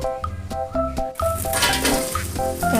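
Cooking oil sizzles in a pan for sautéing, a bright hiss that starts abruptly partway through and continues under a repeating tonal melody and a light metallic clink.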